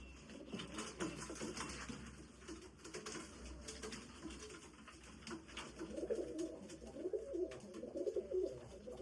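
Pigeons and their young in a breeding loft coo repeatedly, low murmuring calls that swell louder toward the end over a steady background hum, with no voices.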